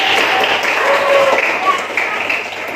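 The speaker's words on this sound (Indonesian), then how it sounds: "Silakan tepuk tangan." Classroom applause from students during a lesson, a steady burst of clapping mixed with voices and chatter, fairly loud and continuous through the short stretch.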